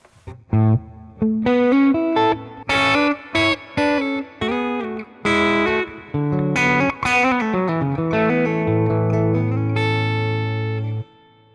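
Electric guitar through a Fractal AM4 hall reverb effect plays a run of distinct notes and chords with a spacious, washy reverb tail, ending on a long sustained chord.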